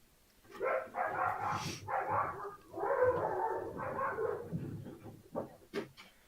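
Several dogs barking and yipping in a household, a loud, busy run of overlapping barks for several seconds, then a few sharper isolated yips toward the end.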